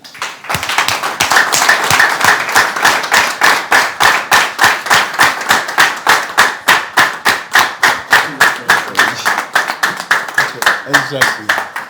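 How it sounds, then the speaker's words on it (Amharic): Rhythmic, steady clapping from a seminar audience fills the whole stretch, loud and close, the claps falling in a fast, even beat with no voices over them. "ቅልጥ ያለ ጭብጨባ ካላደርጋችሁ አይመጣም።"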